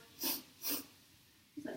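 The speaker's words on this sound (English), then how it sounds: "with a sniffing breath" During a Pilates mat exercise, two short nasal sniffing inhales come close and clear, followed by a brief breathy sound after a pause.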